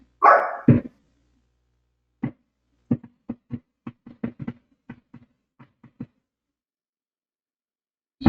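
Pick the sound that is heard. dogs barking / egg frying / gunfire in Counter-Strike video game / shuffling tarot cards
dogs barking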